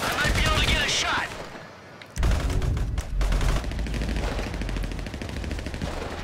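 Grand Theft Auto 5 gameplay with loud sniper shots and bursts of gunfire, sharp blasts at the start and again after a short lull, over dense game noise.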